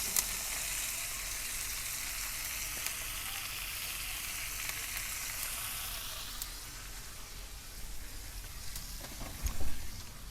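Onions, peppers and mushrooms for beef fajitas sizzle and crackle on a hot Kamado Joe grill, a steady close frying hiss that eases slightly, with a few clinks of stirring near the end.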